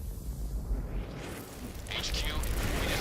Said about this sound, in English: HQ, we just heard an explosion near the harvesting perimeter.